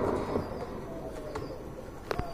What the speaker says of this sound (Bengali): এটা হচ্ছে গোপালগঞ্জের বড় পায়রা